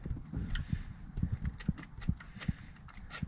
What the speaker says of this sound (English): torque wrench to torque it into the proper torque. And there we go, heard that click